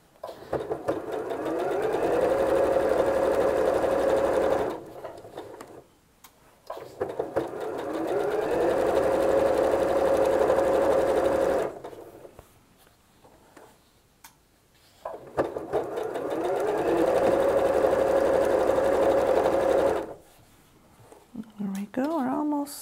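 A sewing machine stitches quilt seams for a gingham quilt in three long runs, each several seconds, with a steady motor whine. The runs are separated by short pauses and handling noise.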